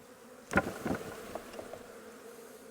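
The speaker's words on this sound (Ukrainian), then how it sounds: "ми зараз витрясемо бджоли від них" Honeybees buzzing as they are shaken off a hive frame during queen-rearing work, a sudden burst of rising buzz and thuds near the start that settles into a steady, softer hum of many bees close by.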